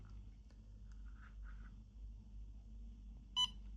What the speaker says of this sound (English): So a single beep means that we should push and hold until we hear a double beep